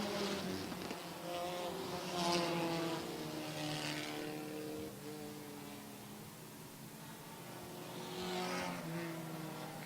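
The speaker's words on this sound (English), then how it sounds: "now for Duravage as they race up the backstretch" Race cars on an oval track roar up the backstretch in a steady, buzzing engine drone that swells and fades slightly as the pack passes, with no voices over it.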